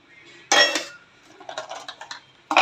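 Cheap plates handled close by, with a sharp clatter, a run of lighter clinks and taps, then another bright clatter at the end.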